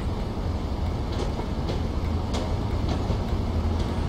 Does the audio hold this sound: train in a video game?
yes